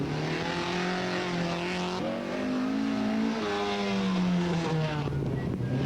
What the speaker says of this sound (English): John Joe O'Connor in a very healthy sounding car.